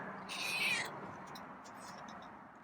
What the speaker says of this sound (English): Bet that's a meow for food, huh?